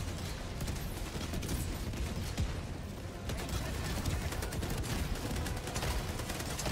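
Cannon fire in the video game Helldivers during a defense mission against Hulks, a dense continuous barrage of loud gunshot bursts and explosions filling the whole stretch with no clear pauses.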